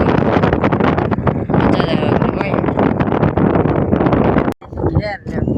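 Strong wind buffets the microphone in a steady, loud roar, with a brief dropout near the end before the gusting resumes.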